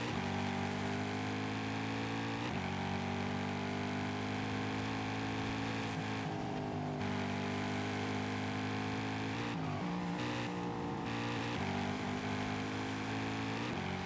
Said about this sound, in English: I will say the engine sounds pretty heavy duty.